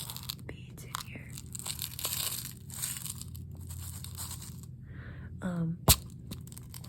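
A hand rummages through a container of beads close up, producing irregular rattles, crinkly rustles and clicks in short bursts, ending in one sharp loud clack, with low breathy sounds in between.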